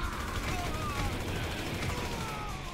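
Gunfire in GTA 5 story mode, a dense continuous burst of rapid shots crackling loudly throughout, with no talk over it.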